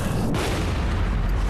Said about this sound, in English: In this scene from The Hurt Locker, extreme slow motion is used to brilliantly capture an explosion.